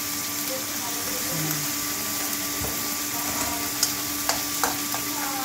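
Tomato and onion fry with fish in a pan, a soft continuous sizzle under a steady hum, with a few light clicks and knocks toward the end.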